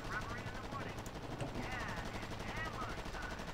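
Faint machine gun fire from .50 cal and .30 cal guns during a Utah Beach landing battle in the war strategy game R.U.S.E., rattling bursts buried under a low rumble and background chatter.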